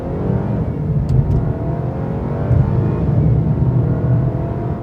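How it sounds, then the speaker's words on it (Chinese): A 2022 Mercedes-Benz E200 facelift sedan engine revs hard under full acceleration, a loud, steady, high-pitched drone rising through the gears from inside the cabin, with no talking over it. "并且你看我刚才在全力加速的时候， 那个引擎的声音是大声"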